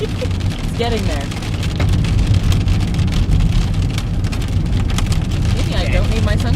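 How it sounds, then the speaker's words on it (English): Hail pelts a car during a Colorado storm, a dense, continuous patter of icy impacts drumming loudly on the vehicle, with people talking over it. "this hail."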